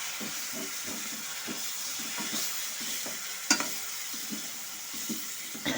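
Potatoes, rice and ground spices being stirred in a pan with a splash of water, giving a steady soft sizzle with repeated scraping strokes and one sharper clink near the middle.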